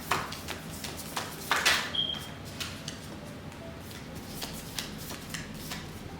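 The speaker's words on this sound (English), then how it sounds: "These cards are actually hard to shuffle because some of them are." Tarot cards being shuffled by hand nearby: a series of soft, quick riffling snaps and taps, irregular in rhythm, with a brief faint ping partway through, quiet throughout.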